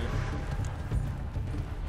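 Horse hooves gallop in rapid rhythmic clip-clop from the Red Dead Redemption 2 video game, steady and fairly close over a low rumble, with no talking.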